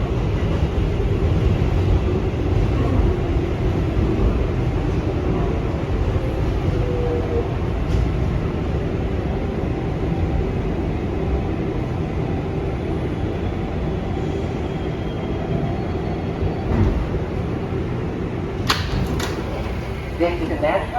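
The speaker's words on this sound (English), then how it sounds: "This is a Manhattan-bound 7 local train." An R188 subway train on the 7 Flushing Line standing at 90th Street-Elmhurst Avenue station, a loud continuous rumble and hum throughout with brief metallic clanks near the end. A recorded announcement voice speaks over it.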